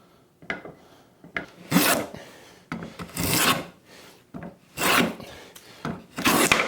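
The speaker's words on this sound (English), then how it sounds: "Except now I'm working against the grain here, so I need to lighten up my cut a little." A hand tool shaves wood against the grain while an octagonal leg is tapered, making six or seven rasping, rubbing strokes in an uneven rhythm, each loud and close with short pauses between.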